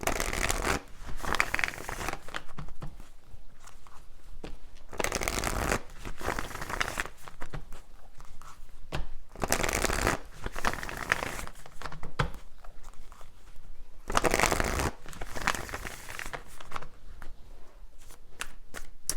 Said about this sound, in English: these cards are flying out